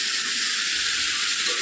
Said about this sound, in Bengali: এখানে দেখো দুই দিকে দুটো কড়াইতে হচ্ছে চিকেন